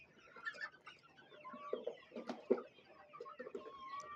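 Desi hens clucking close by, with irregular overlapping clucks and short calls, joined by one louder squawk near the middle, set against a busy background of other birds.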